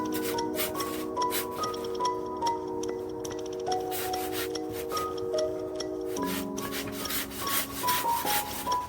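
A hand saw, somewhat dull, cuts through wood for a shelf in a polytunnel; continuous close rasping strokes run throughout, with steady background tones underneath.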